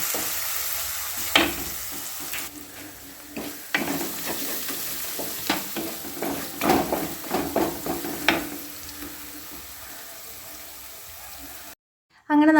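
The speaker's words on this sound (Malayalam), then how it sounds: "പിന്നെ അതിലേക്ക് കറിവേപ്പിലയും ഇഞ്ചി, വെളുത്തുള്ളി, പച്ചമുളകും കൂടെ ചതച്ചതും കൂടെയാണ് ചേർത്ത് കൊടുത്തിട്ട് നന്നായിട്ട് മൂപ്പിച്ചെടുക്കുക" Curry leaves, crushed ginger, garlic and green chilli sautéing in a pan for a Kerala lunch, with steady sizzling and frying broken by irregular stirring scrapes and clinks, close and moderately loud, no talk over it.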